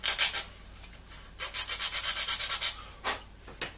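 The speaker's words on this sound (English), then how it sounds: "Missed a little bit of sanding just here." Brisk sanding strokes on a small hard part, a short burst followed by a rapid run of rhythmic rubs and a final stroke, fairly close.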